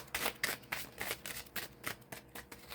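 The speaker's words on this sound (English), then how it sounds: "I'm just going to shuffle the cards, just give them a good shuffle real quick." A deck of cards riffled and shuffled by hand, a rapid series of crisp papery flutters in short repeated bursts, close and fairly quiet with no talking.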